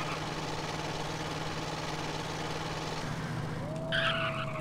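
A slow car driven in the video game MTA DayZ: a steady engine drone hums throughout, then a rising tyre squeal of a skid cuts in near the end, with no talk.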